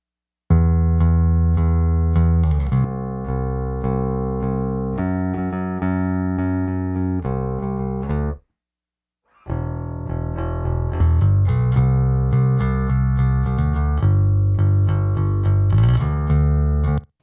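A thick, sustained bass line plays within a full pop mix, dropping out briefly to silence before the band returns at steady volume.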